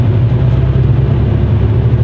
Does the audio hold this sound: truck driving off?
yes